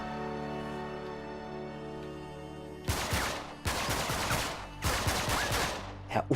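Gunfire from blind shooting in Uncharted 3 starts partway through after a steady music bed, with three loud clusters of rapid shots and impacts separated by brief gaps.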